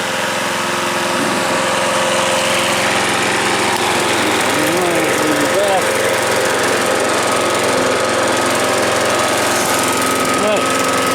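A 2012 Hayter Harrier 41 electric key-start lawnmower cuts grass nearby, its engine droning loudly and steadily with slight rises in pitch under load, while a voice talks at times over it.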